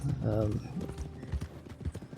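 Hooves of an Appaloosa horse clip-clop faintly in the Red Dead video game, a few soft hits heard beneath a voice.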